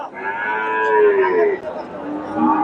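A Jersey heifer at a busy cattle market gives one loud, close, drawn-out moo that wavers in pitch, then briefly rises again at the end.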